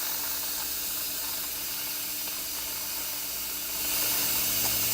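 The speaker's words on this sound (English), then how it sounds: "It'll take it a second or two here for the steam to release." An Instant Pot cooking corned beef, cabbage and potatoes vents its pressure, a steady loud hiss of escaping steam that swells stronger near the end, with no voices.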